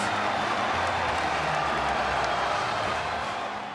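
Students at a Colorado State basketball game in Moby Arena, Fort Collins, cheer and roar as they charge the court after a 65-64 win over Colorado: a dense, steady wall of crowd noise, loud and continuous throughout.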